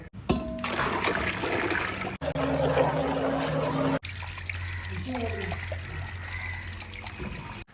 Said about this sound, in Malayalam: നന്നായിട്ട് മെൽറ്റ് ചെയ്തെടുത്തിട്ടുള്ള ചൈന ഗ്രാസ് ഇതാ പാലിലേക്ക് ഒഴിച്ചു കൊടുക്കുക